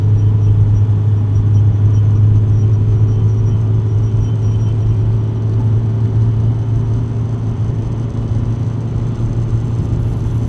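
A van's engine driving in second gear, a loud, steady rumbling drone with constant road noise and whir heard close from inside the cabin, holding even throughout.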